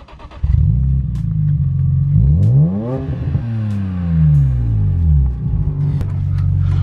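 A Lamborghini Urus pulls away, its engine revving up through rising and falling gear sweeps with a deep, close rumble, then settling into a steady loud drone.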